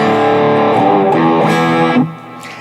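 Electric guitar played through a NUX Cerberus multi-effects pedal on rock patch 1A, a driven, chunky tone with a touch of reverb; sustained chords ring loud and steady, then cut off sharply near the end.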